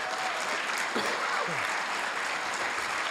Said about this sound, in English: Let's give all these guys a big round of applause.